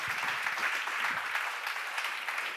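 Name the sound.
congregation applauding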